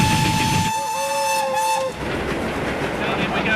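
A preserved Victorian steam train runs toward Bowen Tunnel on a heritage railway, its shrill whistle sounding loudly for a couple of seconds over the rumble and rattle of the moving carriages, which keep rolling after the whistle stops.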